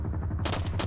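Gunfire in a military PvP video game, a rapid burst of sharp shots that turns brighter and harsher after a brief moment, close and loud.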